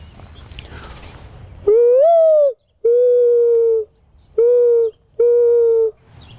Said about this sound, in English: Morning dove.